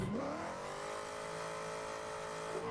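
Drift car with a stock LS engine, exhaust and intake, holding a steady high rev with a strong harmonic drone, close and sustained, with a quick pitch rise at the start and a slight change near the end.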